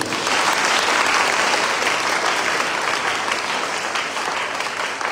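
Audience at the opening Mass of a national conference in Bangladesh breaks into sustained applause, a dense wash of many hands clapping close and loud that holds steady and tapers slightly toward the end.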